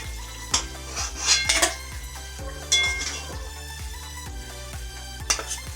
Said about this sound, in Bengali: হয়ে গেছে আমার কাতল মাছের কালিয়া রেডি এবার আমি ঢেলে নেব